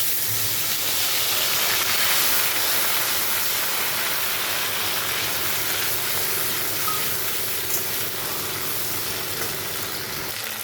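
Ginger and cumin paste sizzles in a pan for a rohu fish and potato curry, giving a steady, close, breathy hiss that holds evenly throughout with no talking.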